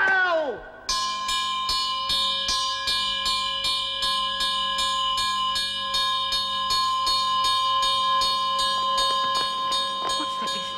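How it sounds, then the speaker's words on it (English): A ringing alarm bell struck over and over in a steady, rapid rhythm, each clang bright and lingering into the next, loud and continuous throughout. "Ring the bell!"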